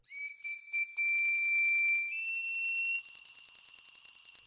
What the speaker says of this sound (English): Very sharp, piercing whistling here.